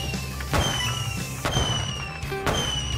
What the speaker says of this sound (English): I wonder if their fireworks can hurt me.